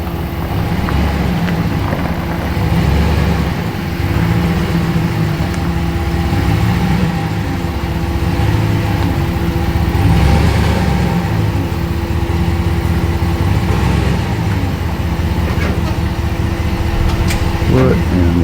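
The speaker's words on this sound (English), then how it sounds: "That's a real nice Hemi she's got there." A Hemi V8 idles steadily with a low, even rumble throughout, a running car engine close by with voices talking over it.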